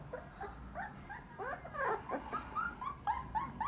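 A sturdy breeding stud dog gives a run of whimpers, yips and low growly vocalizations, close and fairly quiet, repeating in short bursts throughout.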